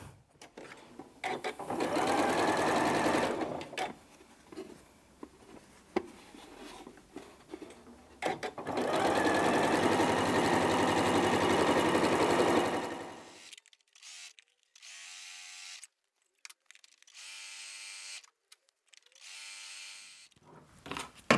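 Sewing machine running a scant quarter-inch seam on quilt pieces: two long, steady bursts of rapid mechanical stitching separated by pauses, then quieter clicks and handling sounds.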